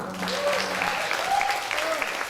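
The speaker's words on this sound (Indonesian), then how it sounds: "Romo Eko Putranto, tepuk tangan dulu dong." A room full of people clapping steadily, with a few voices calling out over the applause.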